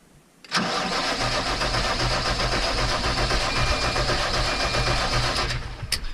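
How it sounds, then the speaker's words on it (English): Starter cranks a New Holland TS115A tractor diesel with its injector lines loosened to bleed fuel, a loud, steady rhythmic churning from close by that runs about five seconds before stopping. "we're going to turn this thing over a little bit and see when we get some fuel coming out of there"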